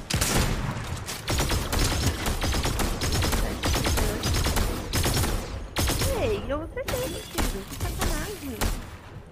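Gunfire in Fortnite, with rapid bursts of sharp shots and some automatic volleys rattling through most of the stretch, under players talking.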